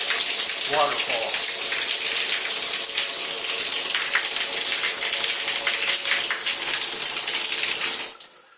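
A waterfall shower spout in a bathroom remodel pours a steady, full rush of water for about eight seconds and then cuts off abruptly at the end. There is no talk over it.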